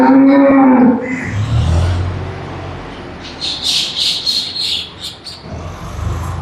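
A dairy-farm cow lets out one loud, drawn-out moo close by, then birds twitter in quick bursts over a low outdoor murmur.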